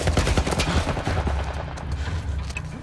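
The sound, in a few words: military turret gunfire in a video game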